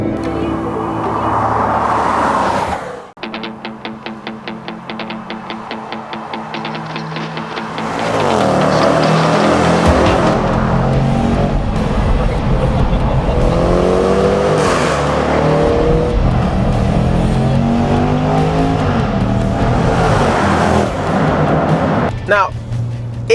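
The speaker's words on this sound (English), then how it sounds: "also to test those exhaust notes. Let's see if we can find a tunnel to drive this car through." Range Rover Velar SVA performance SUV exhaust note while driving, loud engine revving and accelerating with sharp rises and pops, booming as it echoes inside a tunnel, sustained and close.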